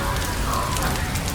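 Warm summer rain falling on a bamboo forest makes a dense, steady hiss and patter, loud and unbroken, with a soft voice speaking beneath it.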